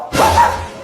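A person imitates a dog with a single short, loud, close bark-like burst of voice.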